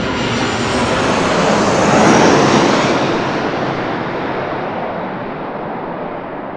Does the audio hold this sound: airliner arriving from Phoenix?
yes